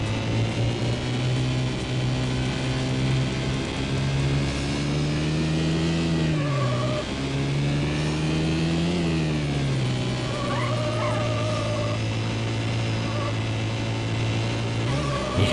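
A Dodge Neon race car engine in Need for Speed: High Stakes hums and revs steadily, its pitch swelling and easing with each gear change, and a voice talks over it.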